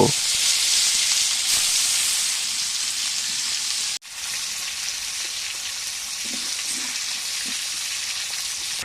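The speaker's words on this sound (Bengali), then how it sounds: "এখন মাছগুলো ভেজে নেওয়ার পালা" Pieces of fish fry one by one in hot oil in a kadai, a loud continuous sizzling hiss that briefly dips when something is added, then resumes with small pops and bubbling.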